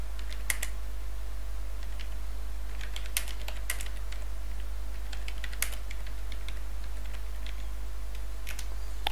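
Fingers tap out a code comment on a computer keyboard in irregular light clicks and short bursts, close and clear over a steady low electrical hum, with no voices.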